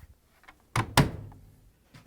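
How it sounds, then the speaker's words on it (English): A Samsung washing machine door pushed shut during a check valve repair: a short thump followed by a sharper, louder latching clunk with a brief ringing tail, fairly close and otherwise quiet. "All right, you can close the door now."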